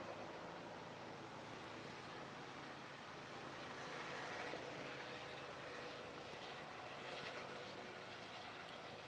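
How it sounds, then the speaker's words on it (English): A helicopter passes overhead as a faint, distant, continuous rumbling wash that swells slightly midway, with no talk. "They got a helicopter passing"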